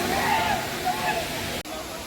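Krangsuri waterfall near Cherrapunji in Meghalaya pours with a steady, dense rush of water that holds at an even level, then drops out for a split second near the end before resuming.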